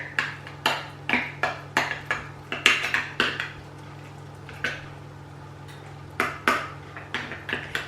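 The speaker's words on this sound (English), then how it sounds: "I'm going to pop some of the mixture in the bottom" A metal spoon clinks and taps repeatedly against small tins as turkey loaf mixture is spooned in, sharp close knocks in uneven bursts over a faint steady background hum.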